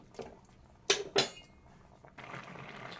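A spoon stirs chal kumro shukto with a little atta in a pan, making two sharp metallic clinks against the pan followed by quieter scraping and rustling, close but faint overall, with no voices.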